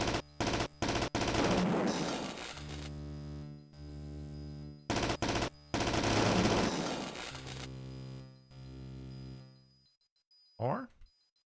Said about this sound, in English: Who's even shooting me?